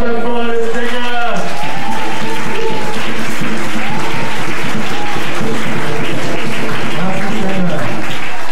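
A church congregation applauds and cheers, a loud continuous wash of clapping and voices with singing and shouting running throughout.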